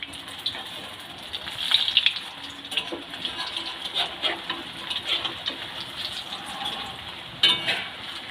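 Palm fruit fritters (taler bora) fry in hot oil with a soft, steady sizzle and scattered crackles and pops, fairly close and quiet throughout, with a brief louder burst near the end.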